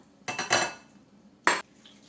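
Small fried sweets made from flour are scooped from a pan into a bowl. A quick run of metal-on-metal clinks and scrapes is followed by one sharp clank after a short pause.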